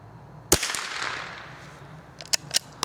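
A Remington bolt-action rifle firing Sellier & Bellot CLUB .22 ammunition gives one sharp, close crack with a brief tail, then some lighter clicks and taps of bolt handling follow.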